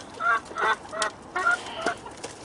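A hen in a henhouse clucks in a run of short, nasal, agitated calls, about five bursts close to the microphone with brief gaps between.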